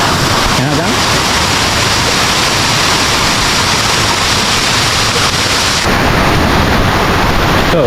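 Kuang Si waterfall in Laos roars as a steady, loud broadband rush of falling water, continuous and close throughout, with a slight shift in tone near the end.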